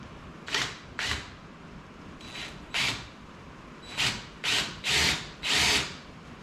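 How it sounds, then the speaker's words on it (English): Power drill boring angled screw holes for electrical conduit in a shop, in short bursts, two at first and then a quicker run of four, loud and close with brief quiet gaps between. "what I want to do is I want to drill the holes, but they got to be slightly angled"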